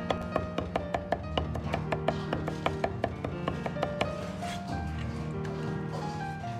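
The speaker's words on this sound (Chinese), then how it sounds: "大蒜两颗先拍破，然后再剁成蒜泥，稍微剁细一点，" A cleaver chops two smashed garlic cloves into a fine paste on a board, with quick, steady, close knocks repeating throughout over background music.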